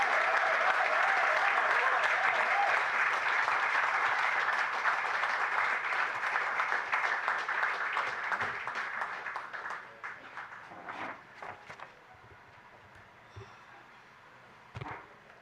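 An audience at a national agriculture and fisheries awards ceremony applauds, loud and full at first, then gradually thinning into scattered claps and light murmuring as it winds down.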